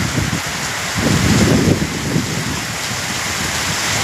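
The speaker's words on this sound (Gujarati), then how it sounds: "ખેરાલુમાં વરસાદ ધોમધાર વરસાદ જોઈ લો." Heavy rain pours down steadily in Kheralu, Mehsana district, a dense, loud wash of drops hitting surfaces with a low rumble swelling briefly, no voices.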